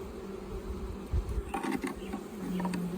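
Honey bees buzz steadily around an open hive in Dominica, a continuous close hum with a few louder passes of individual bees drifting near.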